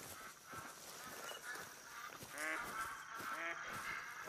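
Ducks call in the hunting game theHunter: Call of the Wild, with two distinct, fairly clear nasal honking bursts over a steady outdoor ambience of wind and birds.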